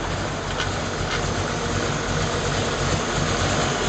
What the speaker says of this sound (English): We are talking about high performance engines.